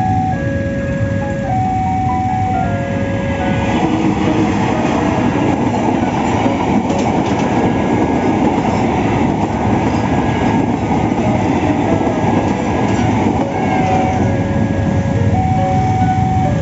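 A wooden toy train, such as a CC201 or CC206 model, rolls through a railway level crossing whose bells ring in a steady repeating pattern. The toy's rumble and clatter run continuously and loudly throughout, with no talking.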